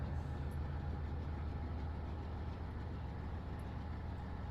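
Passenger train rumbling along rails on a Miami to West Palm Beach run, a steady, even low roar of wheels and carriage noise with faint high clicks, heard continuously from onboard with no talking.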